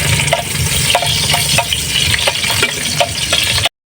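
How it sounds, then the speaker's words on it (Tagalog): Food sizzling and frying in hot cooking oil in a pan, a steady crackling hiss with periodic stirring scrapes, close and loud throughout before cutting off abruptly near the end. "Gisahin na natin ito"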